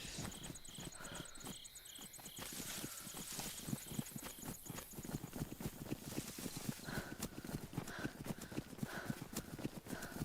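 Horse hooves clip-clop in a steady walking rhythm, close and fairly loud throughout, with a high tonal whine in the background early on.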